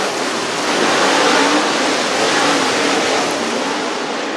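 A pack of dirt late model race cars roars loud and close as the field gets the green flag at Swainsboro Raceway, a dense continuous engine wash swelling and holding without a break.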